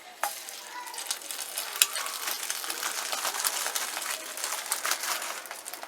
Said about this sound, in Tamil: இதே மாதிரி ஒவ்வொரு பிரெட் பீஸாக முட்டையில் நல்லா முக்கி எடுத்து தவால வச்சுக்கலாம்